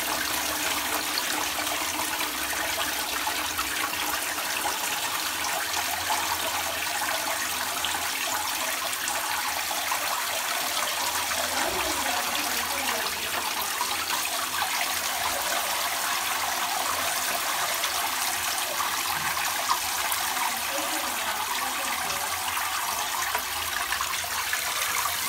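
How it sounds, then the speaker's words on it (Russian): Tap water runs steadily into a container in a home, a continuous broadband hiss and splash lasting the whole stretch with no talk over it. "Я иду воду наливать."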